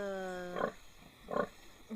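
A mother pig that has just given birth to ten piglets, heard as a steady drawn-out squeal followed by two short, close grunting bursts and a brief final grunt.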